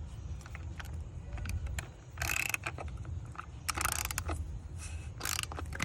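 A filter tool loosens the fuel filter on a Mercedes-Benz R230 SL, giving close ratcheting clicks and several short bursts of broadband mechanical noise over a low background hum, no talking.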